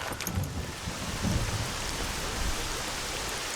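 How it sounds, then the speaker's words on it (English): Steady rain falling outdoors in the video game Stalker, a continuous broadband hiss with low rumbling swells, loud and even throughout, with no voices. "we are walking out into the rain"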